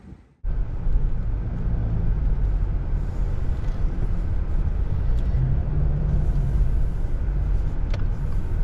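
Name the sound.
2022 Subaru Impreza sedan driving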